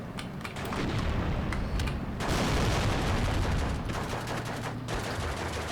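Gunfire from the Steel Division 2 WWII strategy game forms a dense, continuous battle din of rapid shots and booming blasts, loud and sustained throughout.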